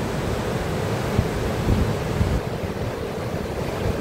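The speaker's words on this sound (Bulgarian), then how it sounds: "ето водопада." Urridafoss waterfall in Iceland roaring steadily, a loud broadband rush of falling water mixed with wind buffeting the microphone, continuous and close with no voices.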